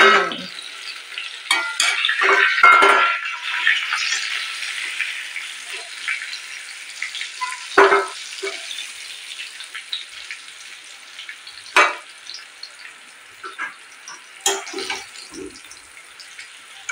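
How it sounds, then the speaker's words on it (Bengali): Pointed gourd and potatoes fry and get stirred in a pan, a soft steady sizzle with scraping stir strokes and occasional utensil clinks, no talking. "এটা ভাজা হয়ে গেলে তারপরে এই সয়াবিনটাকে ভাজতে হবে"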